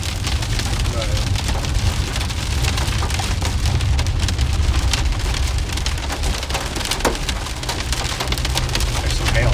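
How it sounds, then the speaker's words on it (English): Small hail and heavy rain pelt a surface during a severe storm on the Kansas–Oklahoma–Texas Panhandle plains, a dense, loud, continuous patter of impacts with no break. "there's some hail in here. Small ones."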